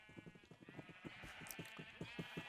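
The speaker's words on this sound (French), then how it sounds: "J'ai dû faire un élevage de moutons parce qu'il nous faut quand même, comme vous avez pu voir, pas mal de laine dans ce mode." Sheep on a farm in a Minecraft-style video game bleat repeatedly in quick overlapping calls, several animals together at moderate distance over a steady background hum.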